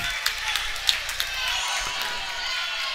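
Crowd at a college volleyball match cheering and clapping in a gym, a steady wash of noise with a few sharp accents, while commentary runs over it.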